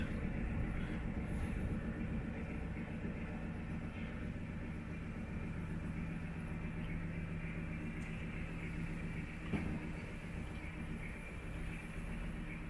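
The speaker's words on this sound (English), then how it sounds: "Over there's a freight train, and wow, I think it's trying to go slower than we are." A steady low rumble of a slow freight train rolling past, heard from a river boat, continuous and even throughout, with a faint metallic hum layered over the drone.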